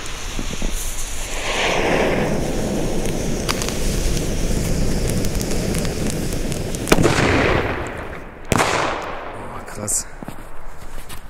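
A Pyro Union P1 sound-maker firecracker goes off outdoors during New Year's Eve fireworks, with a long roaring burst of noise followed by two sharp cracks against continuous background crackle.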